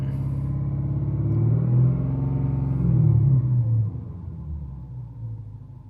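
A 2015 Lexus RC F engine revs up strongly then drops back, a loud, steady close-up roar with deep harmonic rumble rising in pitch before easing off near the end.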